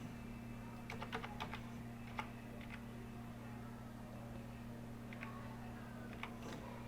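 Computer keyboard keys tapped out in short bursts while a date is entered into an Excel spreadsheet, crisp close clicks over a steady low electrical hum, with pauses between groups of keystrokes.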